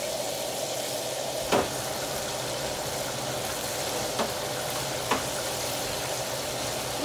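Potatoes frying in a pan with a little minced garlic give a steady, close sizzling hiss, broken by a few sharp taps as they are broken up and stirred.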